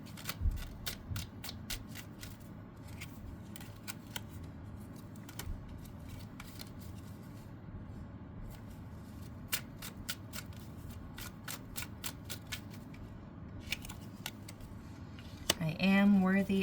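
Tarot cards are shuffled close up as a long run of crisp riffling clicks and flicks over quiet room tone, ending in a brief louder burst of handling near the end.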